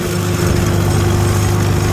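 Antique tractor engine running steadily and loud while mowing, a continuous low droning hum with a constant pitch and no clear rise in revs.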